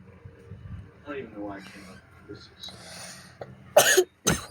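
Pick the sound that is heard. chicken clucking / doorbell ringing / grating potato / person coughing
person coughing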